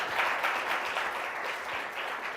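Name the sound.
audience applause for the presentations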